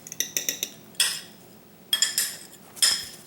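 Utensil clinks and scrapes against a bowl while egg is mashed for a pet conure, coming in four short clustered bursts separated by brief pauses, close and fairly crisp.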